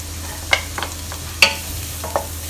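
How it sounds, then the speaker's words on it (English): Shallots and chopped garlic frying in a pan, with a faint background sizzle and a few sharp scrapes and stirs of a utensil against the pan. "Fry until you can smell the fragrance from the shallots as well as the garlic from this pan."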